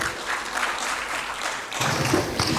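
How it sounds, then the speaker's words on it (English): Conference audience at a Muslim world business forum session claps in a steady, moderate burst, the applause thickening slightly toward the end of the short stretch. "A round of applause,"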